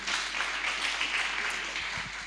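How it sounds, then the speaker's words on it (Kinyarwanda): Applause from a church congregation, a steady dense clatter of many hands clapping at close range, holding evenly for a couple of seconds. "Ni mukoma amashyi numva."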